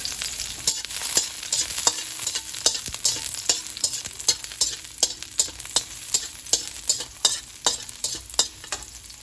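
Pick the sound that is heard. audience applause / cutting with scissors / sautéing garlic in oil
sautéing garlic in oil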